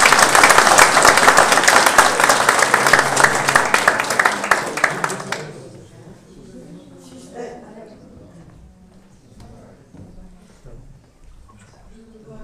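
An audience at a travel talk breaks into loud, dense clapping that carries for about five seconds, then cuts off abruptly, leaving a quieter room where a voice begins speaking.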